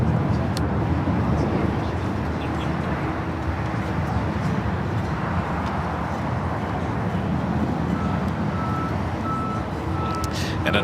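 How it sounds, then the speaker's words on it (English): A Breeze Airbus A220-300 arriving at LAX rumbles as a steady, broad jet roar, with faint beeps and other airport traffic in the background. "And another Breeze Airbus A220-300 arriving here on the south side."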